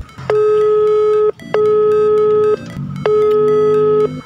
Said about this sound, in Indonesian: Saya coba telepon lagi.